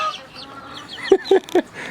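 Chicken clucking close by: three short, sharp clucks in quick succession near the end, with soft background noise and no talking.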